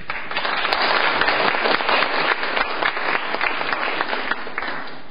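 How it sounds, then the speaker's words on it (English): Polite audience applause in a lecture setting on a university campus, a brief burst of moderate clapping from a modest crowd that swells and then tapers off toward the end. "That was a very polite applause."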